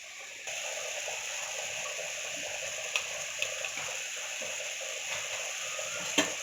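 Greens being stirred with a powder of roasted dried chillies, garlic and peanut in a hot pan, giving a steady soft sizzle with a few light scraping clicks of the spoon, close and alone.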